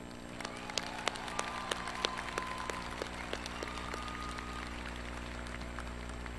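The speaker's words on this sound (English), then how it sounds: "that certainly deserves a big round of applause." A large audience gives a round of applause at a University of Texas at Austin fall commencement ceremony, with scattered claps over a steady hum in a big hall, heard at a moderate distance.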